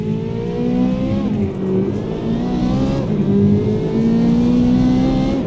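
Chevrolet Corvette C8 Z06 launching under launch control in the racing game Automobilista 2: a loud, close engine climbing steadily through the revs, with two quick shift dips before pulling hard again.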